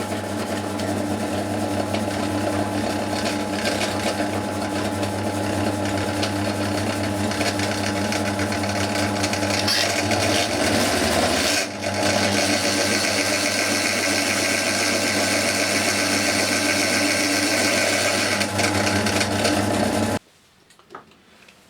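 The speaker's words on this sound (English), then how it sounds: "So now I'm going to drill the 4 holes in the top, which will be tapped later." A drill bores holes through the top of a perspex piece with a 6.8 mm bit, a steady loud machine whine running unbroken for about twenty seconds, with one brief dip partway through before it cuts off abruptly.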